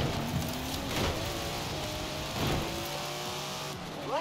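Datsun car engine in the racing game Forza Horizon 4, a steady close engine drone with two swelling revving surges, continuous throughout the short stretch.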